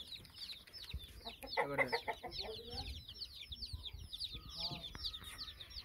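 Aseel roosters and hens from Amroha clucking repeatedly at close range, with a brief spoken exclamation and some other birds chirping around them.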